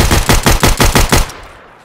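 Automatic gunfire in the video game Escape From Tarkov: a rapid burst of about seven loud, close shots in even rhythm, then the echo dies away.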